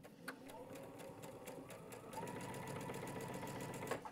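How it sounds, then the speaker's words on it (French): A sewing machine chain-stitching pieces of a Dresden Plate quilt runs in a steady rapid mechanical chatter, faint and close, picking up speed midway, with someone speaking French over it. "on va faire le chain stitching, c'est-à-dire coudre à la chaîne"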